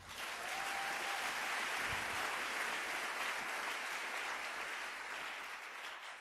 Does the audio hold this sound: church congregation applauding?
yes